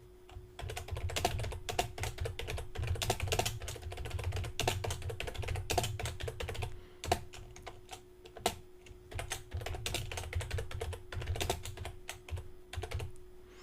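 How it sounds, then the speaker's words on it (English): Fast, continuous typing clatters on a computer keyboard, dense clicks in steady bursts with a brief pause midway, close and alone over a faint background hum. "And now I can type what I want there."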